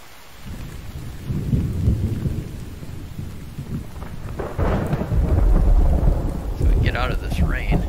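Rain pours steadily in a stormy outdoor scene in the survival video game Infected, with low rolling thunder building and rumbling louder partway through.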